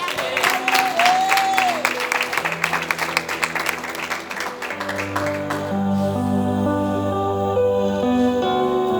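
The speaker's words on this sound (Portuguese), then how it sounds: "Aplauda Jesus" A church congregation claps together for the first few seconds, a burst of rhythmic clapping with a voice calling out over it. Sustained keyboard chords then take over as the clapping fades.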